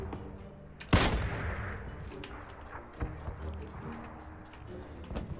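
Distant gunfire rings out in PlayerUnknown's Battlegrounds, one sharp loud shot near the start followed by scattered fainter reports, with no talk in the stretch.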